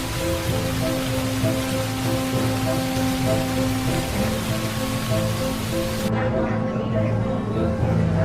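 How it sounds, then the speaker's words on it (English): Heavy rain pours steadily during flooding in Seoul, a dense continuous wash with a steady low rumble beneath, and a voice speaks over part of it. "the relentless rain is making their efforts more difficult than ever"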